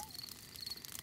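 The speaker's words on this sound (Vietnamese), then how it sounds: "Đó là tiếng kêu của những chú dế đó con." Crickets chirp at a nighttime campsite in a Peppa Pig cartoon, giving a faint, thin high chirping over a quiet background for about a second.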